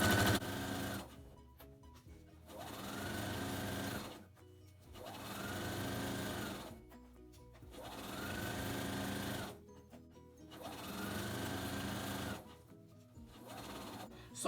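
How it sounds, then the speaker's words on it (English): A sewing machine stitches a straight half-inch seam on an envelope pillow in several steady runs of motor hum, each lasting a couple of seconds and separated by brief pauses, close and clear. "Now I'm gonna start sewing again"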